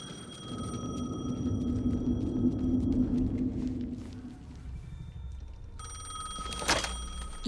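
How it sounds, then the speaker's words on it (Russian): A telephone rings in the video game Alan Wake 2, a steady electronic ring sounding over a low ambient rumble, with a sharper burst near the end. "The phone again."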